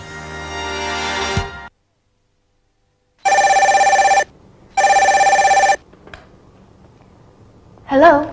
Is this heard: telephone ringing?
yes